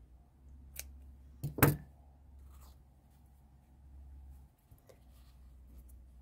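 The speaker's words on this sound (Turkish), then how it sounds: "Şimdi burada ipimi kesiyorum." Scissors snip through yarn during a knotting craft project, with one light cut followed by a louder, crisp close-up snip in an otherwise quiet room.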